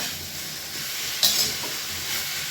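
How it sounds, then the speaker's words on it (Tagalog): Tofu and patola (sponge gourd) sautéing in a pan, giving a continuous hissing sizzle with a brief louder burst of spatter partway through. "Igisa muna natin ang ating tukwa at saka patula."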